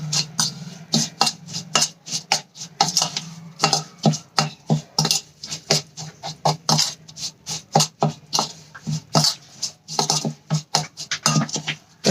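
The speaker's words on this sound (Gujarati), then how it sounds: "તો મરચાંને આપણે સરસ રીતે મિક્સ કરી લઈશું." Spoon stirring red chili powder into a lemon pickle in a bowl: quick, uneven scrapes and clinks, close and fairly loud, going on steadily with no talk.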